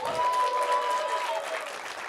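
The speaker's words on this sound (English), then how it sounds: "I want you to give yourself a round of applause." An audience at a live web development conference bursts into dense, loud applause that holds steady for about two seconds before easing slightly, with faint crowd murmur beneath.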